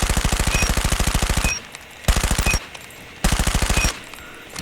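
The CBR4 SMG in COD Mobile fires three loud, close full-auto bursts, each a rapid even rattle lasting about a second, separated by short pauses, with no talking.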